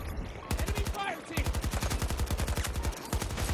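Rapid automatic fire from an AK-24 rifle in Battlefield 2042 rattles out in loud, steady bursts, one short pause breaking the stream before it resumes at the same fast rhythm.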